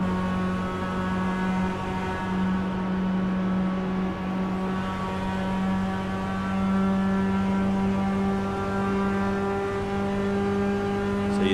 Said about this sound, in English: So you listen to that engine note